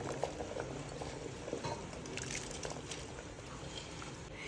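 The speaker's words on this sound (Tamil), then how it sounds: "தண்ணி நல்லா கொதிச்சிருச்சுங்க." Water at a rolling boil in a cooking pot, heated for karuppu kavuni black rice, giving a steady close bubbling hiss that runs continuously without pauses.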